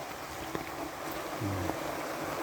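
Water flowing in a stream, a faint continuous rushing wash with low rumbling, heard alone outdoors.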